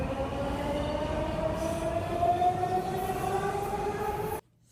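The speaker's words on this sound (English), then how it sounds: "Many trains came by, but not a single one of them was mine." A train rolls steadily past a station platform, a continuous rumble with faint squealing wheels and a humming tone, then cuts off abruptly.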